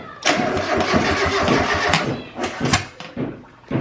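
A turbocharged Mazda Miata on its first start attempt cranks loudly and sputters, trying to fire and pouring out smoke, with uneven bursts of churning engine noise across a few seconds.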